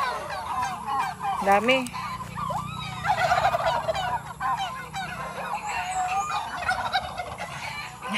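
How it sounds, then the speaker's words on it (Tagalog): A flock of turkeys on a farm in Sorsogon, Bicol gobbles continuously in a dense, warbling chorus with honking calls, close and loud, while a person speaks briefly. "Tingnan natin yung pabo."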